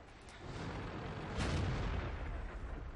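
A Tiger I tank's 88 mm gun fires once in a war video game, a deep, booming blast that rises out of a rumbling engine-and-battle backdrop and rolls on with a long, heavy reverberation.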